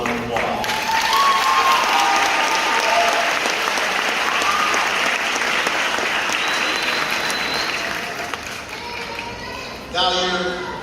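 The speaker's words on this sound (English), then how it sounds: "give them a round of applause" An audience applauds the graduates at a high school graduation ceremony for the Class of 2019, a loud sustained roar of clapping that slowly tapers, with cheers mixed in and a voice speaking near the end.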